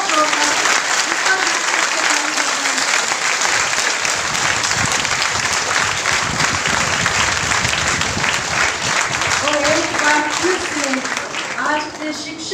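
A large audience at a teachers' honour ceremony and annual festival applauds loudly and steadily, a dense continuous wash of clapping close by with a voice speaking over it.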